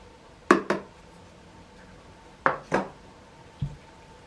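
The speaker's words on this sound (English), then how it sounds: "Mix in the sugar." A wooden spoon knocks against a mixing bowl while sugar is stirred into plantain and Brazil nut loaf batter, giving a few sharp, close taps in pairs with quiet pauses between them.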